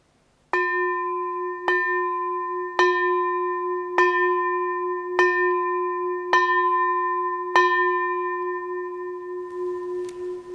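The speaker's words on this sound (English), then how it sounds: "And we end by ringing the bell of invincibility." A ceremonial bell rings out seven times in a steady slow rhythm, each clear metallic strike ringing on and overlapping the next, loud and close, with no voices.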